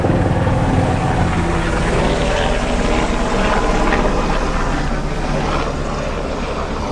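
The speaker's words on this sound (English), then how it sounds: "Well, that's a military helicopter." A military helicopter flies overhead near a coastal home kitchen, a loud, steady rotor and engine rumble that holds for several seconds and eases slightly toward the end.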